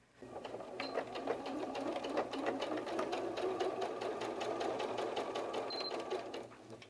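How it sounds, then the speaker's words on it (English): A sewing machine runs steadily in a nearby, moderately quiet rattle, stitching a small piece of white fabric onto orange fabric for a fox softie. "you're going to sew a little piece of the white to the orange before you cut the tail out"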